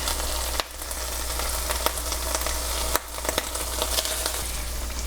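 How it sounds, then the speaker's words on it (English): Garlic sizzles hard in a hot frying pan, a loud continuous crackle broken by two short dips and scattered sharper pops as it is stirred. "now I'm going to add garlic."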